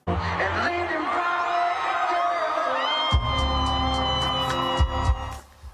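Loud cheering and whooping from a huge stadium crowd at a country music concert in Edmonton, a dense continuous roar with yells and bangs swelling over it.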